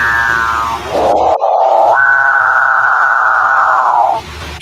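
A capuchin bird's long, low, droning moan that rises and holds steady for several seconds, loud and close, with no other sounds around it.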